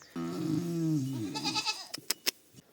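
A goat gives one long, wavering bleat, close and clear, followed by a few short sharp knocks and rustles.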